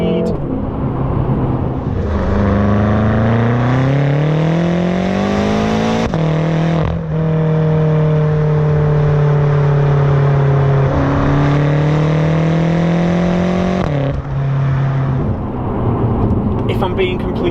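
A 2017 BMW M6 engine revs hard through several rising pulls, each climbing in pitch before a sharp drop at the gear change, loud and close from inside the car.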